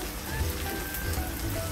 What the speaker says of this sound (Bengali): মাছগুলোকে আমি একটু ভেজে নেব